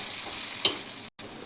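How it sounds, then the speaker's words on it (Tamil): Steady sizzling of tomatoes sautéing in a pan, with a light stir or clink partway through and a brief cut in the sound. "ஒரு பக்கம் தக்காளி நல்லா வதங்கிக்கிட்டே இருக்கட்டும்"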